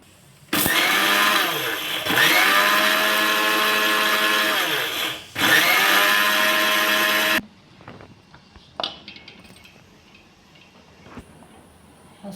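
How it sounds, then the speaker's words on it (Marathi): Mixer grinder whirring loudly as it grinds cooled jackfruit pickle masala, three bursts of motor noise separated by brief pauses, followed by quieter handling clatter. "थंड झाला आपण मिक्सरात बारीक करून घेऊया"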